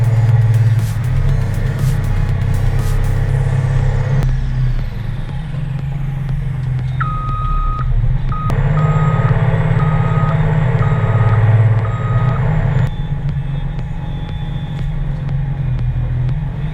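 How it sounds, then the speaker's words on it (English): A log loader truck with large front claws rumbles with a heavy idling engine, and a steady series of reversing beeps plays over it partway through, loud and sustained. "We're looking at a machine designed to grab an entire load of logs in just one pass."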